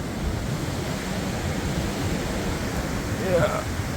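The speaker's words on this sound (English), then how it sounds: "Wind's picking back up again" Strong storm gusts of 70 to 90 mph roar steadily through trees in the UK, a dense, close rushing noise buffeting the microphone, with a voice briefly heard underneath.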